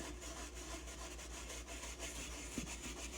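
Damp cloth rubbing oil into a wooden biscuit bowl, a steady soft close-up friction with a brief louder scrape near the end.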